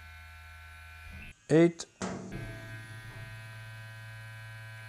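A tattoo pen machine runs at speed setting 8, giving a steady low electric hum beneath a brief spoken number, with a short louder buzzing burst midway.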